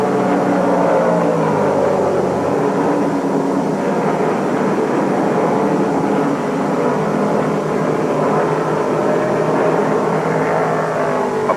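Stock car engines roar in a steady, loud, sustained drone at the 1968 Atlanta GT 250, a car charging out of the fourth turn and down the straight toward the checkered flag, with no voices over it.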